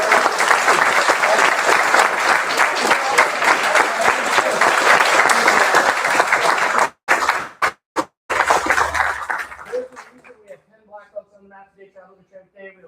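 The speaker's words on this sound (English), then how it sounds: "Let's give Dave one more round of applause" Loud, dense applause from a seminar audience at a Dave Porter reversals session, sustained for about seven seconds, then breaking into a few final bursts before fading as a voice begins talking.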